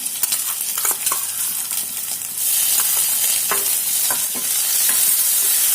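Ginger, garlic and raw turmeric sizzle in hot oil with browned onion as a utensil scrapes and stirs the pan, loud and close, with clicks of the stirring and a crackle that swells halfway through.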